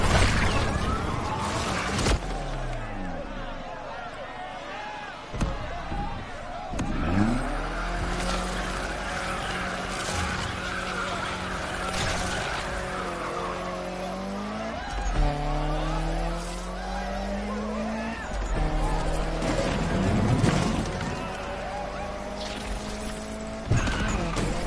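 Race cars in Need for Speed Unbound rev hard and skid, with engine pitch sweeping up and down through gear changes and tire squeal, loud and continuous throughout with game music and effects underneath.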